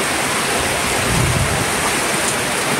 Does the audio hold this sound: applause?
no